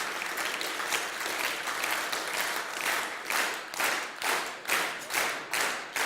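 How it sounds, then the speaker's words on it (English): An audience at a presentation claps, starting as scattered applause and gradually locking into synchronized rhythmic claps, about one every half second by the end, fairly faint. "when I say synchronize, just start clapping together without any help from anyone beside yourself"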